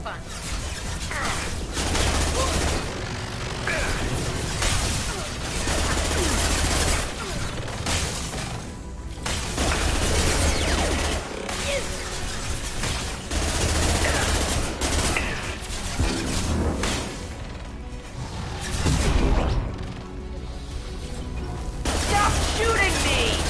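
Gunfire in Mass Effect Legendary Edition, dense bursts of rapid shots and mechanical clatter running almost continuously for the whole stretch, loud and close, with voices talking over the combat at times.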